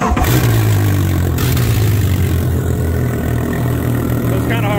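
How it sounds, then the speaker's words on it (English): Two large outboard motors idle steadily while being flushed with desalting fluid, a low, rumbling drone throughout, a constant mechanical hum with no talking. "we are flushing every bit of this outboard motor's water side, both of them"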